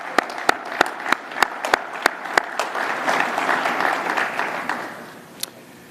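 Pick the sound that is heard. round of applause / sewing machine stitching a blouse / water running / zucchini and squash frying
round of applause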